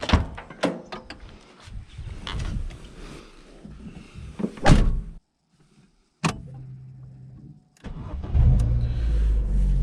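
Someone climbs into a car with door and seat clunks and handling noises, a short silence, then the engine cranks and starts, settling into a close, steady idle, no talking.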